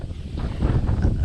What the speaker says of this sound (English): So it is windy. It's about a 20-mile-an-hour wind.